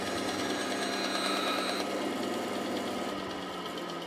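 A bandsaw cuts a curve in a piece of wood, giving a steady, moderately quiet mechanical whir and buzz with a slight change in tone partway through as the blade works along the curve.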